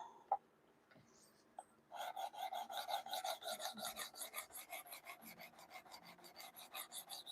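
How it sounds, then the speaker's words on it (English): CPM Rex 121 steel being sharpened on a 320 grit diamond stone, a steady rhythmic rasping of strokes back and forth, close and quiet, following a couple of light taps, with no talk over it. "320 grit diamond is definitely cutting this steel just fine."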